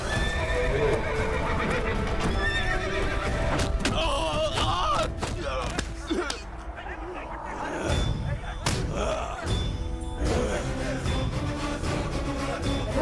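A wild horse neighs and gallops in a horror film scene, with loud whinnies and hoof clatter mixed under dense dramatic soundtrack, thuds and shouted dialogue throughout.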